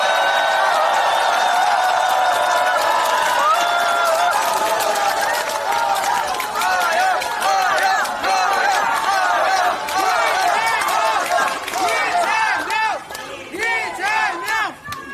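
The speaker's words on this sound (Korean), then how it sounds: "뜨거운 박수와 함성을 부탁드립니다" A political rally crowd at Chuncheon Central Market welcomes Democratic Party leader Lee Jae-myung. The crowd roars with loud, massed shouting, chanting and cheering, with some clapping and voices mixed in, and the noise dips and surges toward the end.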